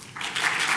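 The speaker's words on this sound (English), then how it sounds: "Let's give Jamila a round of applause" Applause for a presenter at a nuclear reactor and fuel workshop, a brief burst of many hands that swells quickly from soft to a fuller, steady patter.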